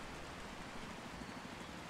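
Steady rain falls in the video game Until Then, a dense, even hiss of drops that fills the moment without pause or voices.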